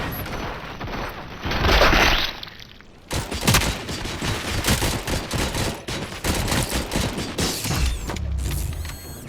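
Gunfire in the Robocop: Rogue City video game: rapid, dense bursts of shots and mechanical clatter, loud and close, with a short lull before a sustained volley.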